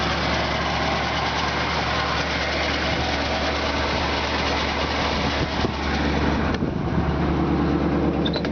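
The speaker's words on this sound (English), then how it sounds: "You can hear the engine just purrs like a kitten." A 1964 Ford Galaxie 500's engine idles steadily and fairly loud, slightly high, a smooth continuous rumble with no voices.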